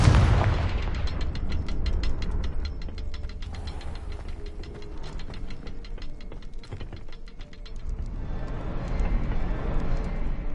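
A Confringo fire spell explosion in Hogwarts Legacy sounds as a heavy, rumbling blast that keeps going under a rapid, rattling crackle of bursts for several seconds before easing slightly.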